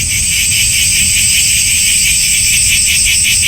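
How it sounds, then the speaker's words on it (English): Cicadas on a summer day, a loud, shrill, continuous buzzing drone with a slight pulsing wobble, very close and filling the air with no other sounds. "Cicadas, or as some people call them, cicadas. And they just happen to be the noisiest insect in the world."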